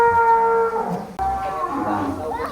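Huge one-ton sacrificial cattle at a busy livestock farm in Bogor moo loudly and close by, with two long lowing calls in succession and faint crowd noise underneath.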